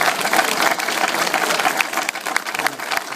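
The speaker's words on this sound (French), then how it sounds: "Vous pouvez l'applaudir pour ça" A crowd at a village centre inauguration in Saint-Gély-du-Fesc applauds steadily and loudly, dense clapping filling the whole stretch without a break.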